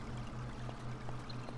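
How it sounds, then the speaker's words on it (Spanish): Steady water flowing in the Vagrant Story video game, a continuous pouring stream at moderate level with a low hum beneath, no voices. "El agua hace pupita."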